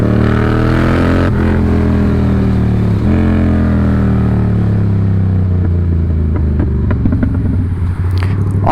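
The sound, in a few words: vehicle engine revving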